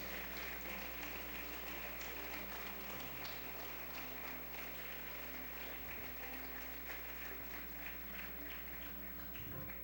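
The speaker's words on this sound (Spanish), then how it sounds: "Dele fuerte ese aplauso al Señor en esta hora." A church congregation applauds during a Spanish-language sermon, steady sustained clapping over a low background hum, with no voices standing out.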